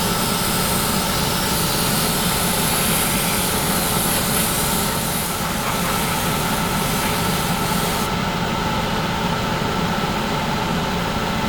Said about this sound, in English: you can hear immediately the air spray, and the airflow is a lot higher